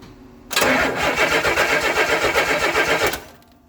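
The starter cranks the engine of a 1964 Pontiac Lemans that has been parked for twelve years, giving a loud, rapid rhythmic churning for about two and a half seconds before stopping abruptly without firing.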